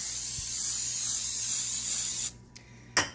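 A continuous hiss of cooking spray hits a hot air fryer oven griddle for a couple of seconds, then cuts off, followed by a brief sizzle burst.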